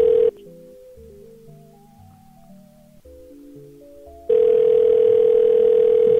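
A telephone call rings out unanswered. A steady electronic tone sounds briefly at the start, a short melodic passage follows, and the steady tone returns loud and unbroken.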